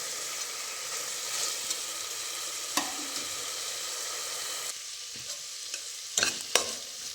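Ginger-garlic paste frying in a pan for ghee rice hisses in a steady close sizzle, with intermittent stirring scrapes and a few sharp clatters.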